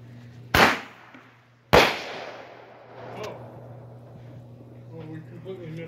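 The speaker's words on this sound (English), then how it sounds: "back with some fireworks." Two sharp, loud Fourth of July firework bangs about a second apart, each followed by a crackling, fading tail over a steady low hum.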